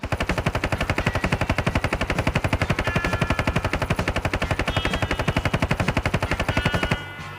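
An M60 machine gun in Standoff 2 fires one long, loud, unbroken stream of evenly spaced rapid shots for about seven seconds, with no talk, then cuts off abruptly.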